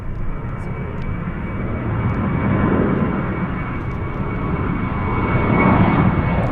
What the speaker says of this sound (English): We have a big plane.